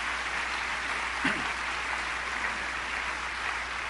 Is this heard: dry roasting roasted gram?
no